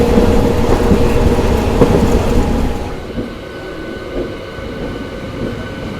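A train rolling into Birur junction gives a loud, rattling rumble of wagons for a few seconds, then drops to a quieter, steadier running noise as it slows into the station.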